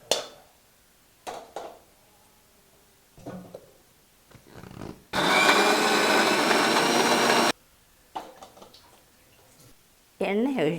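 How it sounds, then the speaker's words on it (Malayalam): A kitchen mixer grinder whirs loudly for about two seconds, blending roasted dried chillies and coconut for chutney, between quieter handling noises and speech. "നമുക്ക് തണുത്തതിന് ശേഷം ഇത് മിക്സിയിൽ അടിച്ചെടുക്കാം"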